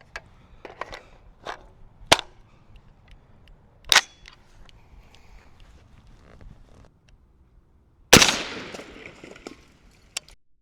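An AR-10 rifle chambered in 6.5 Creedmoor fires at Stanley Cup knockoff tumblers, a few sharp cracks spaced seconds apart with one heavier blast near the end, outdoors.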